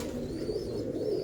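Pigeons cooing in a loft-like setting, a soft low rolling coo repeating close by under faint background noise, quiet and steady without speech.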